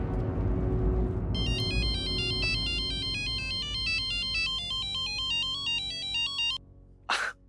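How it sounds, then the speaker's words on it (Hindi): A phone ringtone plays a repeating electronic melody for several seconds, fairly loud over low background rumble, then stops, followed by a short burst of noise. "मिस्टर वागले, मैं अबे इन्हें फोन लगाती हूँ।"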